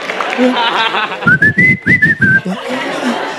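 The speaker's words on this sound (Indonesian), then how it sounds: "Kerjaan gua cuman siul doang itu di panggung" A clear, bright whistled melody on stage at a stand-up comedy show, sustained gliding notes, loud and close, with soft background chatter before and after.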